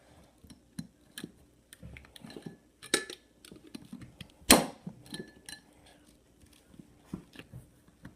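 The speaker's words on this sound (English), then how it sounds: "I'm going to put the lid on" A metal lid is fitted onto a glass jar in a series of light clicks, taps and scrapes, with one sharper clink near the middle, close and quiet with no talking.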